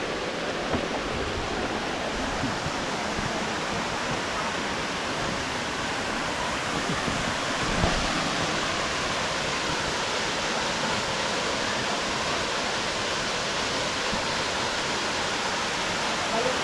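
Continuous broadband roar of water pouring down at Daranak and Batlag Falls, a steady, close and loud rush with no pauses throughout.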